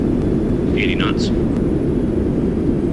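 Roaring thrust reverser of a Boeing 737-900ER in a flight simulator, a loud continuous low rumble holding steady throughout, with a couple of brief electronic chirps over it.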